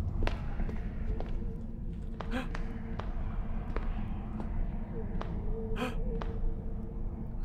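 Gasping from a character in the video game Colossal Cave, several short sharp breaths recurring at irregular intervals over a steady ambient cave hum with faint footsteps.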